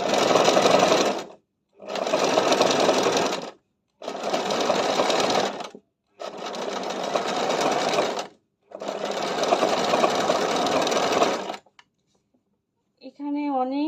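A Singer 024 sewing machine stitches a pant-cut salwar in five loud, steady bursts of rapid needle clatter separated by short pauses, followed by a brief, faint sound at the end.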